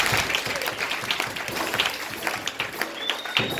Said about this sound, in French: Acclamez d'abord pour la source.